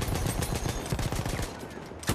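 Battlefield 1 gunfire, a close rapid string of sharp shots in a quick rhythmic burst, loud and alone for about two seconds.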